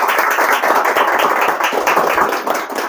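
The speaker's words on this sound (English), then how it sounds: "let's give a huge round of applause for all the finalists and all the participants" A hall audience at an AutoCAD drafting competition applauds the finalists and participants with dense, continuous clapping that holds loud and steady before tapering slightly at the end.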